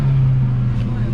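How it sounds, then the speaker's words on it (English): An Abarth 695 70th Anniversario fitted with a Monza Sport exhaust revs in a short, loud, close burst with a deep steady drone. "Give it a rev."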